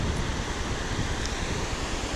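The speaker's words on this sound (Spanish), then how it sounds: "La fuerza con la que se mueve el río," A powerful river rushes between rock massifs in Jáchal, San Juan, Argentina, making a steady, loud, broadband roar of churning water with no speech.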